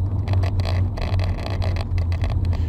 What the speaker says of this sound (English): There's lots of traffic today.